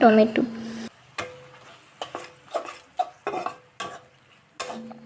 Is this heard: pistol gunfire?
no